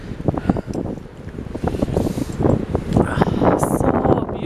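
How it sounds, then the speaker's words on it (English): Strong wind buffets the microphone on the Mull of Galloway coastal trail in Scotland, a continuous rough roar with gusty surges that swell and fade throughout. "Very windy."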